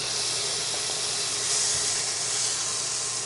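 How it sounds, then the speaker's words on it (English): Butter and chopped green onions sizzling in a pan, a loud, dense, steady hiss of frying that swells slightly midway, with no voices. "we're gonna go ahead and start with our butter in the pan"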